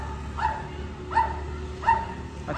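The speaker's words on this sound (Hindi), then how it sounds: "इस कुत्ते को क्या हो गया क्यों इतना भौंक रहा है?" A dog barks three times at an even pace, the barks moderately loud and a little distant over a steady low hum of street background noise.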